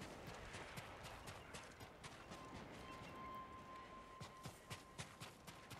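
Horse hooves gallop in the video game Ghost of Tsushima, a quick rhythmic clip-clop of steady, fairly faint hoofbeats over a low background of ambient game sound.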